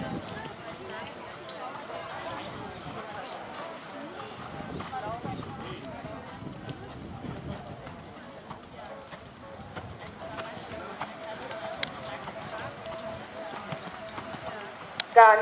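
Horses canter in an indoor riding arena, their hoofbeats a soft rhythmic thudding, moderately distant, beneath an instructor's voice calling out commands.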